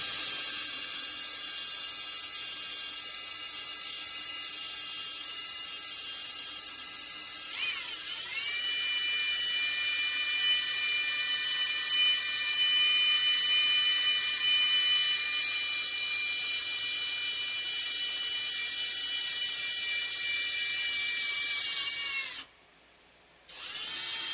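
A rotary tool cuts through the wood of an HK416 stock as a sustained high-pitched whine. It shifts pitch slightly partway through, runs steadily and close, and then briefly cuts out near the end.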